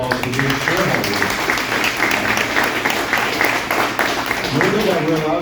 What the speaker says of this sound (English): Give yourselves a big round of applause for being shareholders.